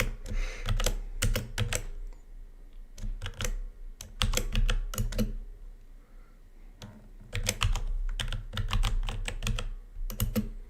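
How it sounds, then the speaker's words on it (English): Clattery typing on an expensive computer keyboard bought at Best Buy, close and fairly loud, in quick bursts of keystrokes separated by short pauses, with no voices. "I think I need to get a more quiet keyboard."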